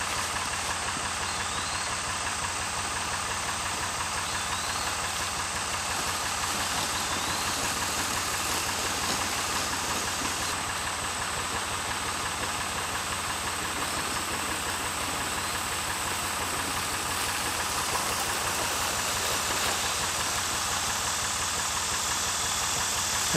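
A small engine, likely on a tiller or spreader used for planting a fall food plot in timber, runs steadily at a constant idle-like drone with mechanical knocking and vibration throughout, no talking.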